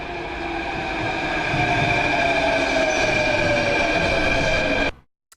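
A train in the video game Turnout rumbles past with a loud, steady rolling roar and humming tones that run unbroken for about five seconds before cutting off abruptly.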